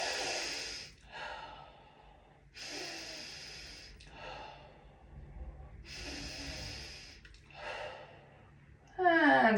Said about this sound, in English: 3 breaths through the mouth.